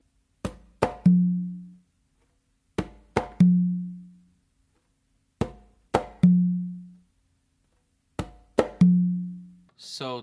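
Conga tumbao pattern played alone, repeated four times at an even pace: quick sharp slaps and taps followed by an accented, booming open tone on the tumba that rings and decays before each pause.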